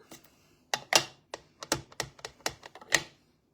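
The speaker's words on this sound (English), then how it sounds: "So I'm going to stamp that one" A rubber stamp presses onto card stock, making a series of sharp, close taps and knocks in irregular bursts with brief pauses between, with no voices.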